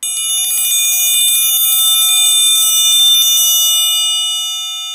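A metal triangle rolled rapidly inside one corner with the beater moving up and down, giving a loud, sustained shimmering ring with fast, even strikes that cut off partway and leave the tone fading out.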